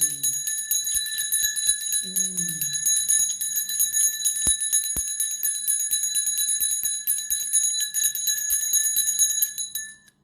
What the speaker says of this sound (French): Tout à l'heure, je pensais à vous faire un bain de cloche, un bain de son